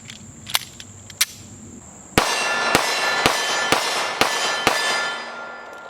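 A Kimber Solo Carry pistol fires jacketed hollow point rounds: two sharp cracks, then a pause and six fast shots in an even rhythm over lingering ringing reverb, close and loud.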